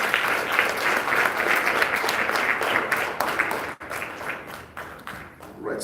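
Steady, dense applause from an audience greeting a man named Ziyad as he joins others on stage, with a brief dip near the end before clapping resumes.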